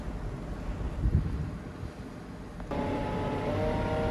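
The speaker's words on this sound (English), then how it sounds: "It's been really windy again today" Wind buffets the microphone in low, rumbling gusts on a farm, turning into a steadier roar partway through, with no voices.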